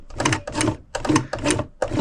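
A sewing machine stitches a repair on an Osprey Exos 58 backpack, running in four or five short close bursts separated by brief pauses.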